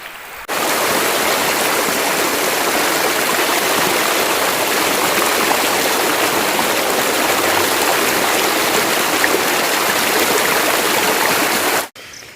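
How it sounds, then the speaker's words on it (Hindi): Rainwater floodwater rushing over farmland and around village houses after heavy rain, a loud, continuous churning flow close by with no letup. "हमारी ज़मीनें और ये हमारे घर बारिशी पानी की लपेट में जी"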